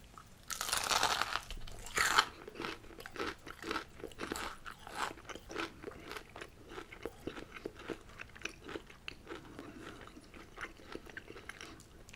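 Close, crisp crunching bites of fried ghost pepper chicken wings followed by steady chewing, with loud crackly bursts at first settling into a rhythmic munch.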